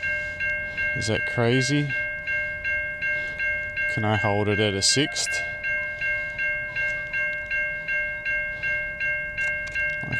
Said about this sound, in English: Train's only going to be just rolling through.